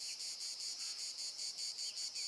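Cicada song in a forest: a shrill, steady electric buzz pulsing in quick regular bursts, about ten throbs across two seconds, loud and close with no other sounds.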